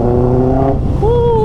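A motorbike engine runs at full power, a loud, close, steady harmonic drone that dips briefly and then climbs back in pitch as it pulls hard.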